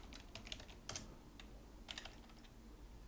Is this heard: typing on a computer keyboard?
yes